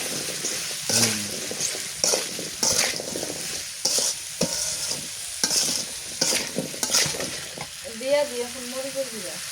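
Sweet pumpkin sizzles and fries in a pan with spices while a utensil scrapes and stirs in repeated strokes, with a brief tonal hum near the end.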